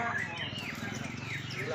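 Murai batu (white-rumped shama) song at a bird-singing contest, rising and falling whistled phrases sweeping across the clip over a steady murmur of crowd voices and background noise.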